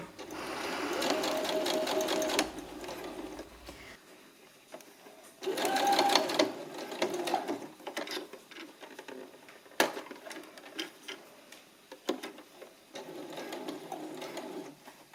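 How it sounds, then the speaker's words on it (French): A sewing machine runs a seam 1 cm from the fabric edge in several bursts of rapid rattling stitching, separated by quiet pauses and a few sharp clicks. "On réalise notre couture à 1 cm du bord."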